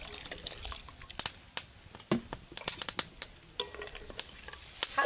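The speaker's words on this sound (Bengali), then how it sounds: "এখন কিন্তু আমি কিছুটা জল দিয়ে দেব।" Brinjal and egg curry cooking in a pan after water is added, with soft sizzling and bubbling broken by sharp scraping stir clicks, close by and moderately loud, no talking.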